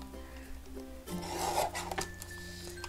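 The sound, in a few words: trimming card stock for a pop-up card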